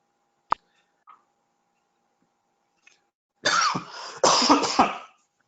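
A person coughs in a quiet room: a couple of hard, harsh coughs come close together near the end, after a few faint clicks and a soft throat sound.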